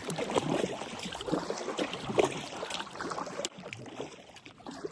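A kayak is paddled on open sea, with soft irregular splashes and water swishing close by at a quiet level, under faint wind and no voices.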